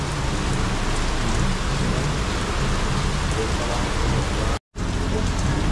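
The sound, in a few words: heavy rain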